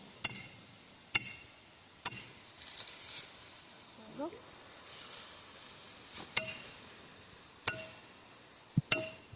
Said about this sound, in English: I really like this hammer too